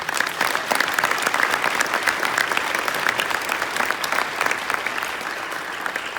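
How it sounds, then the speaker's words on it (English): Round of applause at an association presidential presentation for a retiring leader, a full crowd clapping steadily and densely for several seconds, loud and continuous without talk. "Let's give Ed a round of applause."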